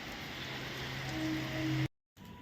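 Rain falling steadily on surfaces in a forest area, a dense, even patter with water dripping, close and continuous until a sudden brief cutoff near the end.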